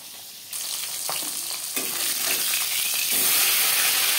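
Pieces of katla fish fry in oil for a Bengali-style fish curry, a close, strong sizzle that steps up louder in stages as the fish is stirred and turned, with no talk.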